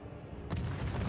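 Warship guns fire in World of Warships, a heavy, loud booming burst that cuts in abruptly after a quieter low rumble and carries on as a dense roar of gunfire.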